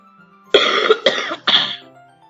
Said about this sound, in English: Damn, I'm coughing a lot today.